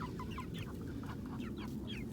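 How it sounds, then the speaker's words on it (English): A backyard flock of chickens that includes Spitzhauben and Legbar breeds, clucking softly and repeatedly from a short distance over a steady outdoor background hum, with no voices. "Got a lot of chickens."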